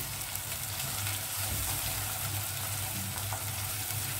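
Liver and onions fry in a pan with a steady, dense sizzle, interrupted now and then by soft stirring and scraping as the pieces are turned; no one speaks.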